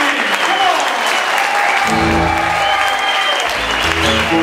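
Clapping from a blues concert crowd at the Ameno Blues festival, a full, continuous burst of many hands, loud and near, while low bass and drum tones begin thumping in beneath it partway through.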